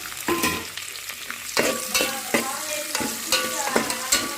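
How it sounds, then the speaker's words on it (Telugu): Onion, tomato and green chilli fry in a pan as a spoon stirs them, producing repeated scraping strokes over a soft sizzle at close range, with no talking. "అలానే టమాటా పచ్చిమిర్చి వేసుకోండి"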